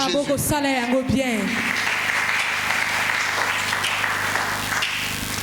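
A church congregation breaks into applause, steady clapping filling the room after a brief spoken line at the start.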